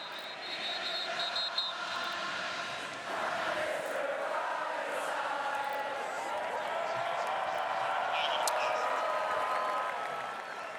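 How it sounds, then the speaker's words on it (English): Crowd in Notre Dame Stadium sings during a Notre Dame vs Florida State college football game, a broad, distant wash of voices that holds steady throughout, under an announcer's commentary. "serenaded by the singing of the crowd"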